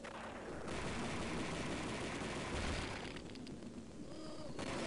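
Dense, continuous video-game gunfire and blasts while zombies are shot down in Zombie Crisis, a loud, unbroken wash of shots and impacts throughout.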